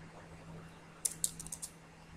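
Quick keystrokes on a computer keyboard, about six light clicks spaced unevenly across half a second, sound close and crisp over a quiet room with a faint steady hum.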